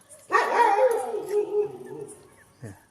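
Street dog puppies from a litter of seven let out a close, drawn-out whining howl of about two seconds, followed by a short yip.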